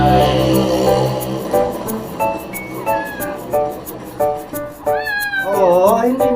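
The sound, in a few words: cat meowing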